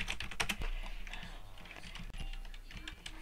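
Keys on a computer keyboard clatter in quick, close bursts of clicks, dense at first and then sparser, with no talking.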